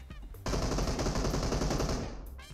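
PUBG Mobile gunfire on Erangel: a dense, loud burst of rapid automatic shots lasts about two seconds, cut off abruptly, with quieter shots just before and after.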